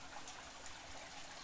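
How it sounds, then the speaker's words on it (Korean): Water flows along a ditch in a narrow alley on a hillside road in Busan, a faint, steady trickling murmur heard alone. "청량한 물소리가 좁은 골목을 가득 메우고 있습니다."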